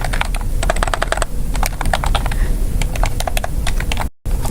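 A new password is typed on a computer keyboard: steady, close, rapid key clicks run alone for several seconds with no talk, then stop abruptly.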